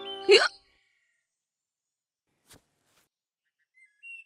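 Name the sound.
cartoon child hiccuping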